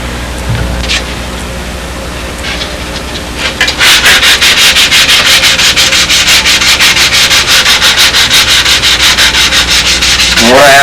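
Sanding wood by hand with 320-grit paper wrapped on a quarter-inch wooden block radiused at one end: after a few quiet seconds, loud, close, rapid rhythmic back-and-forth strokes run steadily to the end.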